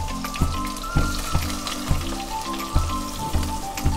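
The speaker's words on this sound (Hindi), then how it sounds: "हमारा तेल गर्म है, गरम मसाले शामिल कर देंगे, क्रैकल होने देंगे" Whole garam masala crackles in hot oil for a Hyderabadi chicken tahari, a dense sizzle with regular sharp pops about twice a second, close and loud, no talk.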